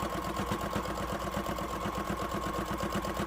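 Sewing machine stitching fleece for a bumblebee toy, a rapid, even mechanical chatter running steadily and close with no talk over it.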